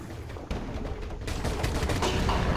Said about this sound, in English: they're shooting me through the window